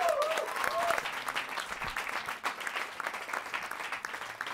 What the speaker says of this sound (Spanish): Un aplauso para el muy gracioso Alex Clavero.